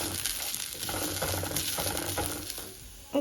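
Rice sizzles steadily as it fries in a pan while it is stirred to a light brown, a constant hiss with soft scraping, close and alone.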